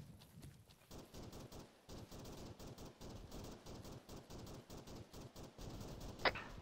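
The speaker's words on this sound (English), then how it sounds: "I got a lot of AK fire to the west" Distant AK rifle fire in a military shooter game, heard as faint, steady rattling bursts that keep going for several seconds at low volume.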